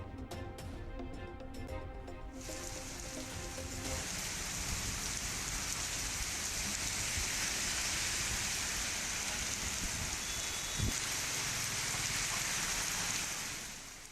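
Heavy evening downpour in Tamil Nadu, a steady dense hiss of rain falling on surfaces that holds loud and unbroken throughout, with no voices.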